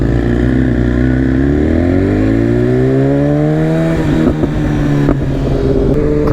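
A BMW S1000RR sport motorcycle engine revs hard for a wheelie, a loud close-up howl that climbs steadily in pitch, then breaks into rapid rev changes and gear shifts near the end, with no talk.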